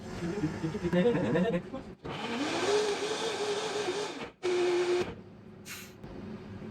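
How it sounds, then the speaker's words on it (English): A food blender whirs through a batch of garlicky hummus with smoked paprika, blending it smooth and creamy, in two steady loud bursts separated by a short pause, with a faint background murmur. "Blend till smooth and creamy."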